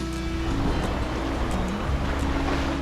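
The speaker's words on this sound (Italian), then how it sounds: "vi faccio ascoltare il rumore del mare" Calm sea waves washing onto a quiet Sardinian beach, a loud, continuous broadband wash with gentle swells, wind-like and close, with no voices.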